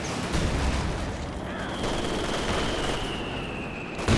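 Machine guns in Company of Heroes 2 keep up dense, sustained bursts, and battlefield noise and distant blasts crowd in around the fire. A faint whistle streaks overhead.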